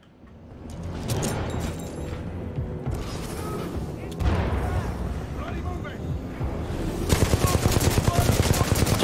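Turret gunfire in the shooter game Titanfall 2, dense rapid bursts crackling throughout at fairly close range, swelling into a harsh sustained volley near the end while a voice speaks over the action.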